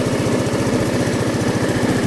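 Scooter engine idling just after starting, on a scooter that had trouble starting after braking: a loud, close, even putter of rapid regular pulses running steadily throughout, with no voices.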